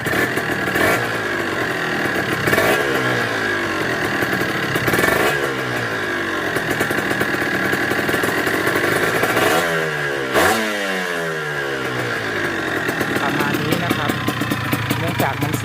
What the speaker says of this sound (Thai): เสียงเครื่องก็ประมาณนี้นะครับ